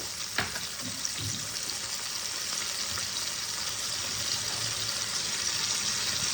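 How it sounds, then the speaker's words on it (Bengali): Spices sauté with a splash of water in a pan for a Bengali cabbage ghonto, producing a continuous, fairly loud hissing sizzle with a faint clink near the start. "এর মধ্যে অল্প জল দিয়ে আমি মশলাগুলোকে কষাবো।"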